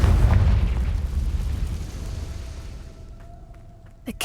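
A Confringo fire spell in Hogwarts Legacy bursts in a loud, booming explosion that rumbles and fades over a few seconds, followed by a faint tonal ring and a small pop at the end.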